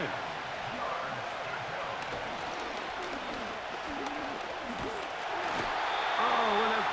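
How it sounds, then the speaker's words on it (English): Stadium crowd in a Madden 25 football game, a steady broad roar of cheering that swells louder toward the end, with a commentator talking over it. "What about this crowd getting even louder before 3rd and 10?"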